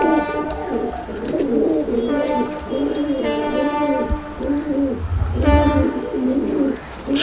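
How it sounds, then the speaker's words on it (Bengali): Pigeons in a loft keep cooing in a continuous, pulsing run of throaty calls, close and fairly loud, with a voice and a brief thump mixed in. "সুন্দর পায়রা"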